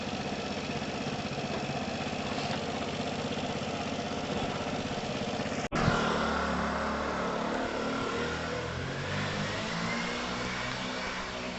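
A Piaggio Typhoon 125cc scooter runs steadily at full revs while being ridden, its engine droning loud and continuous, broken once by a sharp knock before the sustained revving carries on.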